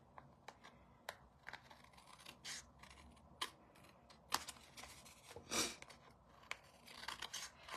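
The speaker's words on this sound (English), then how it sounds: "Now I'm going to flip it over and trim off the excess." Scissors snipping away excess patterned paper scraps on a handmade card, a series of short, close, crisp cuts and rustles with small pauses between them, quiet and without talk.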